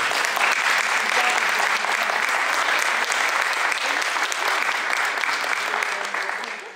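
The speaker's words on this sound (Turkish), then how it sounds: "Siz kendiniz alkışlayın." Volunteers in Mezitli are applauded by a large crowd, a loud, dense and sustained burst of clapping that holds steady before tapering off at the end.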